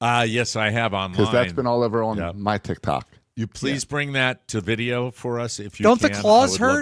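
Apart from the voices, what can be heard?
No everyday noises stand out.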